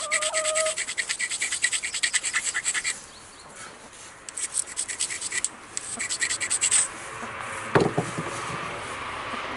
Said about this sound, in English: I'll grind that spot that blew out too.